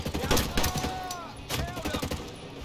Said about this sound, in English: I'm gonna have to reload each time I shoot.